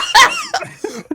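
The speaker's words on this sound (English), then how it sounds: "I just coughed on my own spit" A close, loud cough from someone choking on their own spit, a harsh burst followed by a few short sputtering catches and a small laugh-like breath.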